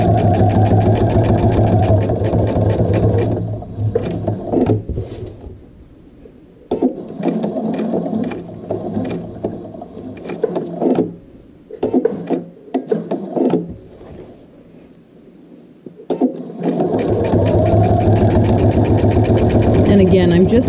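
A sewing machine stitches a toiletry bag in loud, close runs of rapid mechanical whirring, stopping and starting several times, while a person talks during the pauses.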